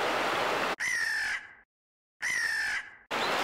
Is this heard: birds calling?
yes